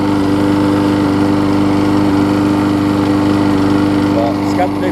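Husqvarna lawn mower with aluminum deck running on a new carburetor, loud steady close engine drone that skips slightly now and then, with a voice briefly audible over it.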